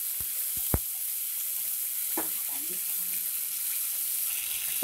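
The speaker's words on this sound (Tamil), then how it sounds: "இந்த பீட்ரூட்டையே நம்ம வந்து கொஞ்சம் லைட்டாக வதக்கிக்கலாம்" Beetroot sautés in a pan for rasam, a soft continuous sizzle with a few sharp clicks and utensil scrapes early on, heard without talking.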